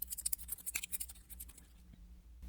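Batter cards for the Bottom of the 9th board game, base set plus Hitters Pack expansion, shuffled together in a quick series of close, crisp riffling flicks that end in a brief settle.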